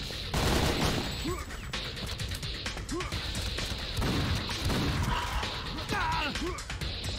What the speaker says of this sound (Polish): Nie wiem, kto w nas strzela.